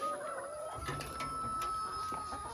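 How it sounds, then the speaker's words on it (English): Chickens cluck in a backyard coop during egg collection, a steady run of close, busy clucking and squawks with no talk over it. "Be nice to the chicken, Sonny."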